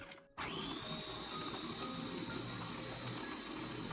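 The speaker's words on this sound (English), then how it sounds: "Add the Ladyfingers to a food processor and blend until finely ground." A food processor grinds ladyfingers into fine crumbs, starting abruptly with a loud steady whirring motor roar that holds evenly until the end, close and alone.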